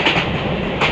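Wheels of a Ramtek–Itwari MEMU train run over the rail track in a loud, close, continuous rumble, with rhythmic clacks over the rail joints near the start and end.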